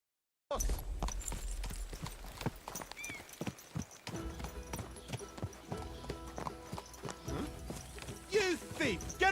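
Horse hooves clip-clop at a steady trot in the video game Kingdom Come: Deliverance 2, loud and close, with a brief pause midway, a neigh near the end and game voices talking over the hoofbeats.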